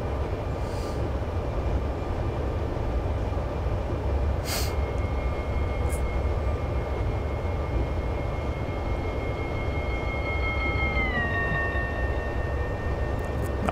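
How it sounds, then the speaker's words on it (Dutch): A Dutch MDDM electric train in Train Simulator 2015 coasts without traction toward Ede-Wageningen, giving a steady loud rumble with sustained tonal whines that slide downward near the end and a few brief clanks. "En ik laat de trein even langzaam uitrollen totdat we uiteraard in de buurt komen van Eerde-Wageningen."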